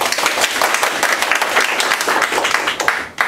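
An audience at a community family-harmony event breaks into loud, dense applause, a steady wash of many hands clapping at close range that fades near the end.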